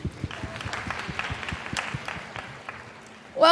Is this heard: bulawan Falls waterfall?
no